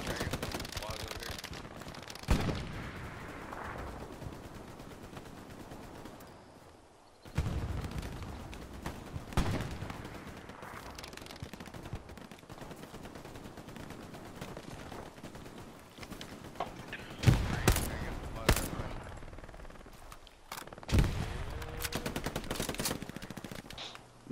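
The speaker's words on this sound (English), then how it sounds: "It's artillery." Artillery and gunfire boom and rattle through a tank battle video game, with repeated loud blasts and bursts of shots, some near and some distant, layered over ongoing battlefield rumble.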